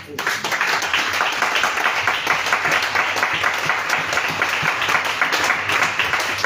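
A church congregation applauds to acclaim the Lord during a Bible teaching, dense steady clapping filling the whole stretch at close range, with voices mixed faintly into the applause.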